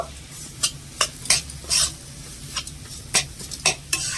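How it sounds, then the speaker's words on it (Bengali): Spiced vegetarian cutlet filling is stirred in a pan, with a spoon scraping and clinking against the metal in irregular bursts over a soft, steady sizzle, close up and without voices. "সব কিছু এবার ভালো করে মিশিয়ে নেব"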